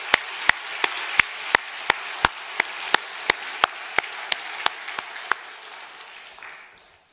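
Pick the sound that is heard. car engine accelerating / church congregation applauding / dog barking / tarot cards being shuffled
church congregation applauding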